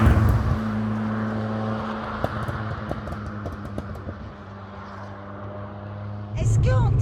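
A GTI hatchback engine hums at a steady low drone inside the cabin on an early drive, with tonal engine notes shifting over road rumble and people talking over it.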